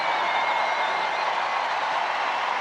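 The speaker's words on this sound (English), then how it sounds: "Good reception from the Emirates crowd." Steady, dense applause from a football stadium crowd at the Emirates during an Arsenal Women versus Tottenham WSL match, greeting a substituted England captain as she leaves the pitch, a broad continuous wash of clapping with no break.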